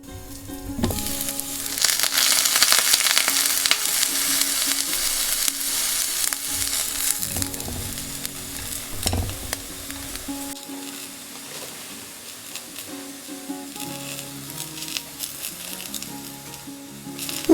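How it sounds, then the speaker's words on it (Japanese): Chicken tsukune meatballs with garlic shoots steam-fry in a covered pan, giving a steady, loud, close sizzle that eases slightly partway through and carries on with soft bubbling crackle. "両面焼き目がついたら蓋をして5分ほど蒸し焼きにします"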